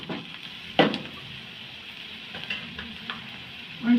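Ginger garlic paste frying in a pan for gobi manchurian, a steady close sizzle broken by a sharp scrape of stirring and a few lighter clinks and scuffs, with no voices.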